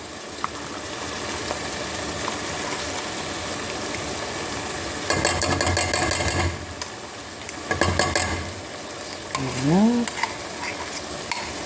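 Tomato paste is stirred in a sizzling pan for empanada filling, a steady frying hiss under scraping strokes, with bursts of louder stirring and a brief spoken word near the end.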